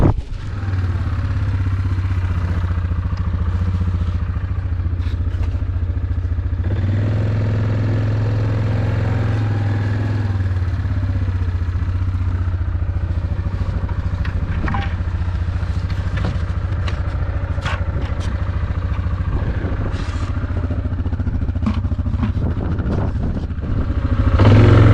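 A vehicle engine rumbles steadily and close up while driving along a field fence line beside a road, with loose rattles and clatter over the constant drone for the whole stretch.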